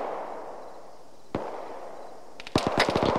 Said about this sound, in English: Friendly mortars are hitting the AA section now.